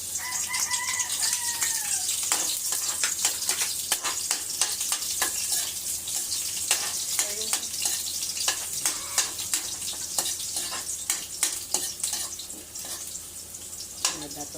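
Onions and other aromatics being sautéed in hot oil for pork with green peas, a steady loud sizzle with frequent crackles and pops, a rooster crowing faintly in the background near the start.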